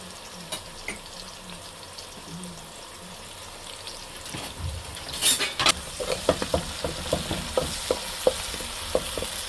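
Oil and salt stirred in a pan while preparing a spicy chicken kochu curry, a soft sizzle with scraping and clinking stir strokes growing busier and louder in the second half, close by, with no talking.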